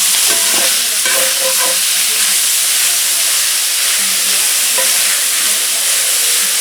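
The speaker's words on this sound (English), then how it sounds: "I have a video where I just sizzle bacon." Bacon frying in a pan gives a steady, loud crackling sizzle with a constant hiss of fat and scattered pops throughout.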